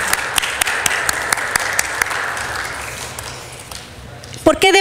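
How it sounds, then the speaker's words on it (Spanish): Applause in a Mexican legislative chamber session, a steady wash of clapping from the audience with a sharp tapping pulse running through it, moderately loud, fading out before a few spoken words at the end. "Un aplauso para ustedes."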